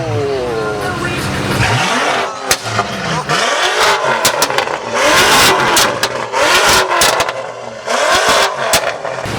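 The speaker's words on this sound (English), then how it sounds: "That's definitely an illegal exhaust," Loud, close engine revs from a car with a harsh exhaust, rising and falling in repeated bursts with sharp crackles, voices faintly underneath.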